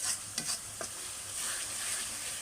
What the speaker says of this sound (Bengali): এখন আমি এগুলোকে ভেজে নেব।